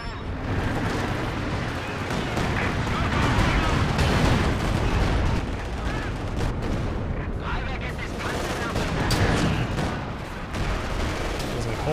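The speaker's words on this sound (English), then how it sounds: "Watch out. Artillery fire here." Artillery and gunfire erupt in a Company of Heroes 2 battle, a dense, continuous barrage of booms and crackling shots layered over one another for the whole stretch.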